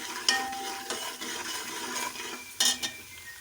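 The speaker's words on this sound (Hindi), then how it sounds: "ज़ीरा, नमक, लाल मिर्च, सब्ज़ मिर्च, सब चीज़ें ऐड कर देंगे और इसको मिक्स कर लेंगे।" A spoon stirs cumin, salt, red chili and green chili into a masala in a pot, giving repeated scraping knocks against the metal over a light sizzle, close up.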